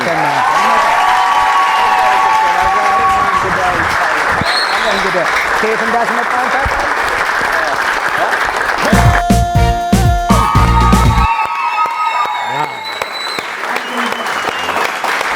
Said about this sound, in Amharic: ደሞቅ ያለ ጭብጨባ ብቻ